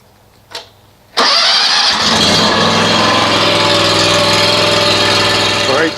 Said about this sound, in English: now we're going to run the engine and let it circulate the oil